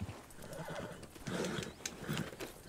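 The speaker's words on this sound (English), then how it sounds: "My horse." A horse in the video game Red Dead Redemption 2 whinnies and clip-clops at a gallop, hooves thudding rhythmically at close range and a sharp neigh cutting through.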